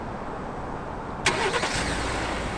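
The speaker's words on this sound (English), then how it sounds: "You've just started the vehicle from your phone." A Ford truck engine started remotely through the FordPass app cranks briefly, catches and settles into a steady idle after a quiet opening.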